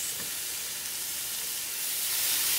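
Meat searing in a very hot pan during home cooking, a steady loud hiss and sizzle with no pauses, growing slightly stronger toward the end.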